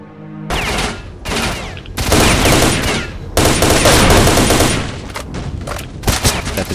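Heavy gunfire from the S.T.A.L.K.E.R.: Shadow of Chernobyl video game, loud dense bursts of rapid shots in several long volleys separated by brief gaps.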